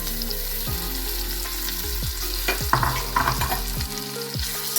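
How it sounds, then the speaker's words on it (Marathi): Dates fry in ghee in a hot kadhai, giving a steady sizzle with repeated low thumps and scrapes as they are stirred. A few brighter crackles rise midway. "कढई गरम करायला ठेवली आहे थोडं तूप घालायचं आणि खजूर मिल्क करून घ्यायचं"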